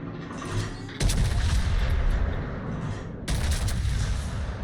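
Battleship guns fire high-explosive shells in a naval combat video game, two heavy booming volleys about two seconds apart with a dense rumbling roar that carries between them, loud and with no voice over it.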